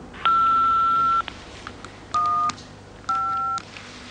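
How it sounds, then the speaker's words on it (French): Answering machine tones on a telephone line: a long steady beep followed by two shorter two-tone beeps, clear and close with no voices. "laissez-moi un message après le bip sonore"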